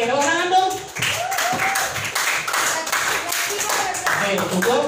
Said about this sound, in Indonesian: Yeay, tepuk tangan dong.